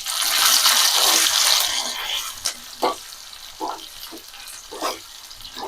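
Coarsely crushed garlic and curry leaves hit hot oil for a tempering, making a loud burst of close sizzling that fades into quieter frying punctuated by a few distinct stirring scrapes.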